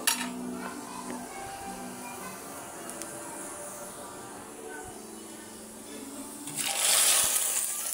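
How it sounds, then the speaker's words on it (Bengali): Onion fried red is poured as tempering into dal, with a few light kitchen clinks and a low hum before a sudden, loud hissing sizzle bursts up near the end. "আমার পেঁয়াজটা লাল হয়ে গিয়েছে ডাল বাগার দেওয়ার জন্য। এটাকে এখন আমি ঢেলে দিব।"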